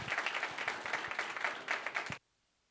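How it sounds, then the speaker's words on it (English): A conference audience in a hall applauds for about two seconds, a dense patter of many hands clapping that cuts off abruptly into silence. "With an applause, a slight applause, we bring him online."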